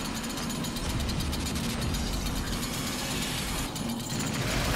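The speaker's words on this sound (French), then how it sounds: "Avec le bruit de la tronçonneuse derrière" A chainsaw in the video game DOOM makes a loud, continuous mechanical buzz with a low rumbling hum, sustained throughout with only a brief dip near the end.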